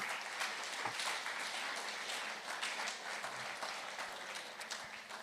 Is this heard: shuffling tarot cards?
no